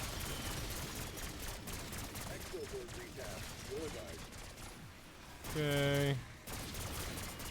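Rapid gunfire from a Black Ops 6 Zombies game, a steady stream of shots under a talking player's voice, with a brief louder tonal game effect near the end.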